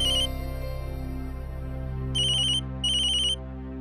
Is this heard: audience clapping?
no